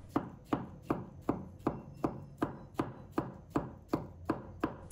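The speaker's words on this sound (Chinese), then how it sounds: "再准备半个火龙果，先把皮剥掉，再切成片。 然后切成小粒。" A knife chops half a peeled dragon fruit into small pieces, about a dozen sharp, evenly spaced strikes on a cutting board, close and clear with nothing else audible.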